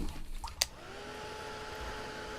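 Hair dryer blowing steadily to dry paint on a craft project, a constant airy whir with a tonal hum starting after a brief click, close and fairly quiet, with no talking.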